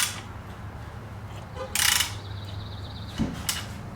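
Ratchet clicking on the crank bolt of a Honda B18C1 engine as it is turned over by hand during a teardown with a broken connecting rod, faint mechanical clicks and a brief louder burst over a low hum.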